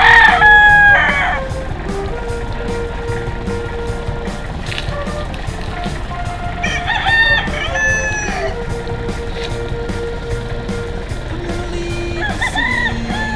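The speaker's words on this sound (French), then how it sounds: "Petit élevage de coqs de combat." Fighting cocks at a small breeding farm crow loudly, close by: one long cock-a-doodle-doo opens, then several more crows and clucks from other birds follow over a busy, noisy background.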